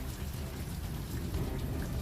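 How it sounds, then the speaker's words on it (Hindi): Heavy rain pours outside at night in a village, a dense, steady roar with a deep rumbling low end suggesting thunder, continuous and fairly close. "बाहर बारिश और तेज हो चुकी थी।"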